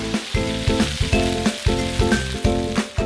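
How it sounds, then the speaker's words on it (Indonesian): Loud, steady sizzling of ground spice paste frying in a hot pan, with regular pulses like stirring every half second or so. "Tumis bumbu halus, lalu tambahkan air biar nggak gosong."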